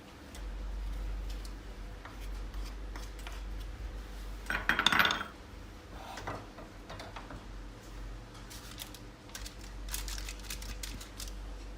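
Soft clinks and rustles as tahini halva is set into a container, with a brief louder clatter in the middle over steady background hum.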